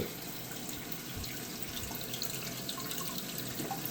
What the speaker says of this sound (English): Oh, the water pressure's not high enough.